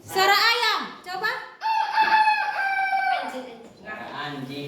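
A person loudly mimics a rooster's crow, a long rising and falling cock-a-doodle-doo drawn out over several seconds.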